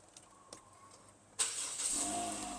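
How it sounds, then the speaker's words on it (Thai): A 2018 Toyota Corolla Altis 1.6G with push-button start turns over, a quiet interior lead-in with small clicks giving way to a sudden crank and catch, then a steady idle hum settling in. "นี่นะคะเราสตาร์ทเครื่องยนต์แล้ว"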